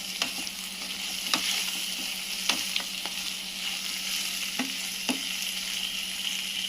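Jackfruit biryani masala with turmeric stirred in a pan, a steady gentle sizzle with scattered scraping clicks of the spoon, close and quiet with no talk.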